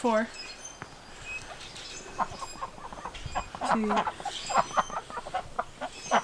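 Ducks being introduced on a farm give soft quacks and clucking calls at close range, scattered irregularly through the clip. A person talks quietly underneath.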